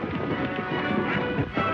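A herd of horses gallops in a 1931 western film scene, a dense, continuous rumble of hoofbeats on a noisy old soundtrack.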